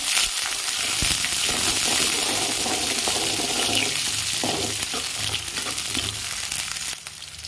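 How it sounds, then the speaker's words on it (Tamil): Sliced large onions sauté in oil with dried red chillies for a ridge gourd poriyal, giving a steady close sizzle with occasional stirring and clatter in the pan and no talk. "வெங்காயம் நல்லா வணங்கணும்."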